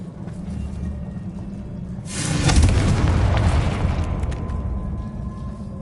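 A Confringo spell blasts in Hogwarts Legacy on PS5, a loud explosion that bursts suddenly over a steady game backdrop, then rumbles and slowly fades over several seconds.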